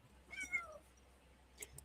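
A calico cat meows once with a drawn-out, wavering cry, followed a moment later by a couple of short, faint chirpy mews, close by in a quiet room.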